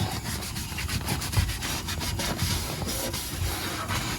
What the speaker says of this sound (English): So now I don't really need to use this, but I like scouring it.